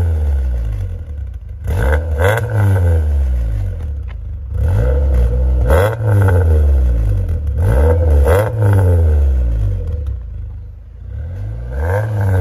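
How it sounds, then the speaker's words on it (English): A 1997 Saturn SL2 engine revs repeatedly in loud bursts through its exhaust, rising and falling several times with exhaust roar and brief idle gaps between, close by. "Now we're just gonna go for a couple revs"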